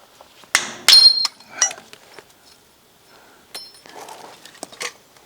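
A few sharp metallic knocks and clinks, spaced irregularly with quiet gaps, as a hammer taps a small metal tab close by, beneath a lifted trawler boat.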